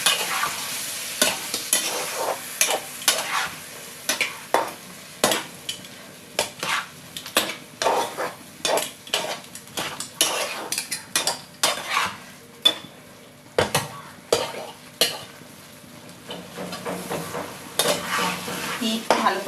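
A ridge gourd mixture is stir-fried in a pan, with a spoon scraping and clacking against the metal in quick, irregular strokes over a soft background sizzle, close and clear.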